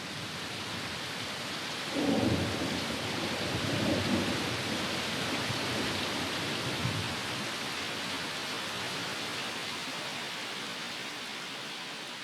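Heavy tropical rain falls steadily in a dense hiss while low thunder rolls in the distance a few times, with the rain continuing alone afterward.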